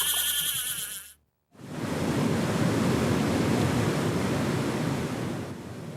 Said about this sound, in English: This waterfall looks like it could be in Michigan's Upper Peninsula, or perhaps a stream in the western Rockies.